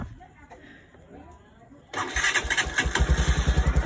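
A RUSI Flash motorcycle with a weak battery starts up after a quiet moment, then settles into a loud, close, rapidly pulsing idle with a rhythmic putter.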